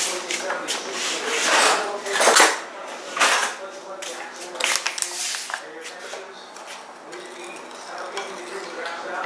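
Stirring siopao asado filling in a pan, scraping and rubbing strokes that come in uneven bursts with occasional clinks, close and fairly loud, while a person talks at times.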